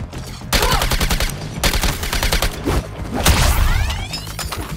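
Rapid bursts of automatic gunfire in the video game Suicide Squad Kill the Justice League, loud and dense, with short pauses between volleys and a whooshing effect near the end.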